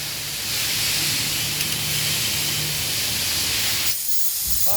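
Compressed air hisses loudly and steadily during routine maintenance of a GWM Tank 500 HEV 2026, a broad continuous blast that cuts off abruptly near the end, leaving quieter workshop sounds.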